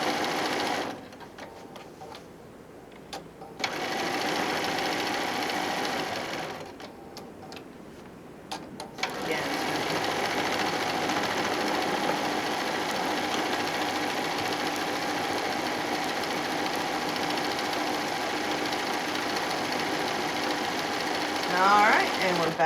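Sewing machine stitching an overcast seam along the edge of a quilt-as-you-go cosmetic bag, a steady rapid mechanical whir that runs loud and close almost throughout, with two brief pauses near the start.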